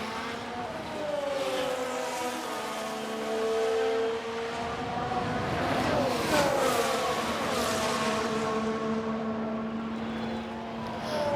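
Formula 1 race car engines in the F1 22 Manager game, a high, sustained whine whose pitch climbs and shifts as several cars pass, continuous and fairly loud with no speech.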